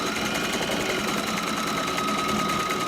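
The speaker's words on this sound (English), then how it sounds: "sometimes when you're moving so fast, the machine can't really grab the material and thread through both wefts sometimes" A sewing machine stitches hair wefts with a fast, steady mechanical whir and rapid needle chatter, continuous and close throughout.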